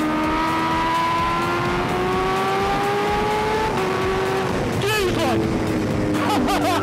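A Kawasaki H2R motorcycle in third gear on a race track accelerates hard onto the back straight, its engine note climbing steadily, then jumping through a quick gear change near the end, loud and close over rushing wind.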